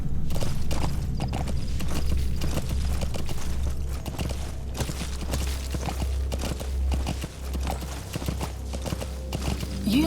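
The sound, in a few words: horse hooves clip-clopping in Metal Gear Solid V video game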